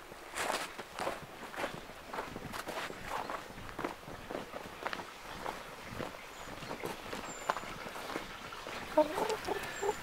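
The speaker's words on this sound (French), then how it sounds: "C'est une poule qui était dans un élevage en batterie, ça." A rescued hen from a battery farm clucks and walks nearby, soft footsteps and scratching steps mixing with short clucks throughout, with no talk.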